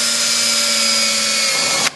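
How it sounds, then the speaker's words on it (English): A power drill drilling holes in aluminum for a golf cart dash runs steadily with a high whine and tonal hum for about two seconds, then cuts off abruptly. "that's where we're going to drill our holes"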